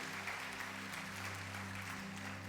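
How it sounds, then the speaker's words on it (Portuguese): Church congregation clapping hands in praise during a worship service, a steady wash of many hands with a low organ-like drone underneath, faint and distant. "Dê uma oferta de palmas ao Senhor."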